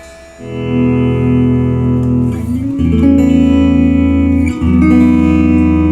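Clean electric guitar, a Squier Affinity Telecaster, playing sustained chords through a 1950s-style tweed clean amp, with warm tones and a few chord changes, no talking.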